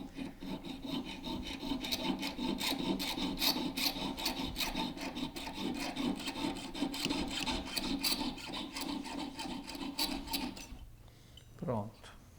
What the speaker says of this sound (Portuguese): vamos serrar.